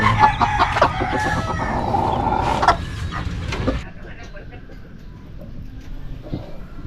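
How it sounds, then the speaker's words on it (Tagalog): Bantam chickens and their chicks cluck and peep close by, with a busy burst of calls that thins out to quieter chirping, while people talk over it. "Ayan yung mga sisiw niya, oh."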